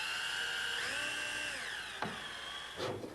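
A power drill drives screws to fasten wooden boat pieces together, a steady close whine that dips in pitch as the screw bites, with two sharp knocks near the end.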